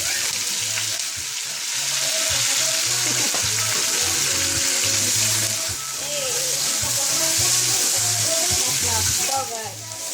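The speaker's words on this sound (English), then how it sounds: "we're going to let that saute for 2 to 3 minutes" Scotch bonnet pepper, onion, garlic and tomatoes sauté together in a pan for Jamaican mackerel, giving a steady, close sizzle that runs unbroken for the whole stretch, with faint stirring movement underneath.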